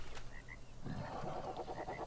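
A frog in a swamp in Ark Survival croaks in short rhythmic bursts, moderately loud over quiet ambient game sound, with no talk.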